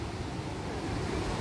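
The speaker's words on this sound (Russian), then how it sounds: "Это рядом с водопадом." Steady broadband rush of water close to a waterfall amid thick undergrowth, a continuous loud roar with no pauses and no voices.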